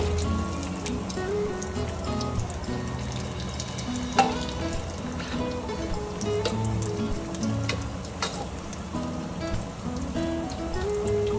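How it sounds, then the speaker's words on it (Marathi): Vada potato fritters deep frying in hot oil for vada pav, a continuous crackling sizzle with dense popping bubbles, steady and close with no talk. "आपल्याला तांबूस कलर येईपर्यंत तळायचे आहे।"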